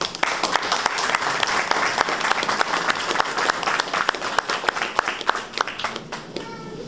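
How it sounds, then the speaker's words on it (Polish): An audience at a Radomsko commemorative ceremony for 1939 claps in a sustained burst of applause, dense and steady, with a few voices and a child audible beneath it. "I brawa dla was."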